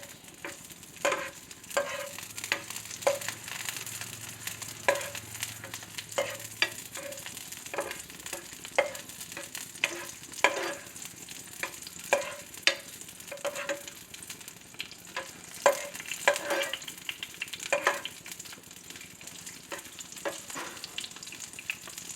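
Kimchi fried rice crackles quietly in a hot pan, with sesame oil and pepper in the mix, a soft continuous sizzle punctuated by repeated scraping taps of a spatula stirring and pressing the rice, no voices over it.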